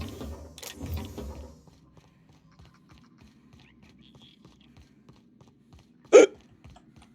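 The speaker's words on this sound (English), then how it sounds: "Ah, great. Hiccups." A single sharp hiccup sounds close and loud after some quiet soft clicking, with brief muffled voice noise at the start.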